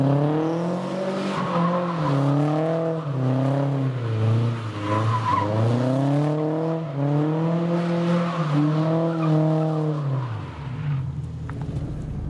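A Toyota FRS drifts hard left from a standstill at a drift school, its engine revving loud and close in rising and falling surges while the tires squeal continuously for about ten seconds before the engine drops away.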